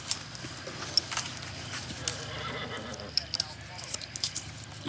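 A racehorse on course whinnies while its hooves clip-clop in a loose, uneven rhythm, fairly close and moderately quiet, with occasional birdsong and some talk in the background.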